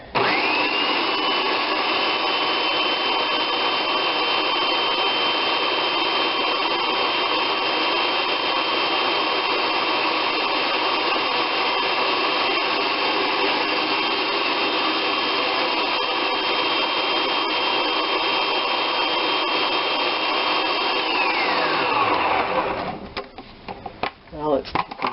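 A food processor purees polenta with ham and cheese, a steady loud motor whir held for about 22 seconds before it winds down and stops, then some light clatter.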